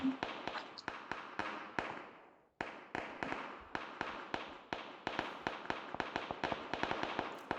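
Gunfire in PUBG cracks out in rapid, sharp bursts, dozens of close shots in quick succession, with one short pause before the shooting resumes just as fast.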